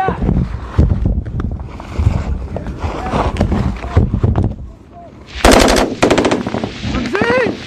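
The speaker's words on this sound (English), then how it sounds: "by now their positions are under intense fire" Heavy machine gun fire during combat in Afghanistan, loud sustained bursts with sharp reports and a renewed close-range burst near the end, under shouted voices and wind.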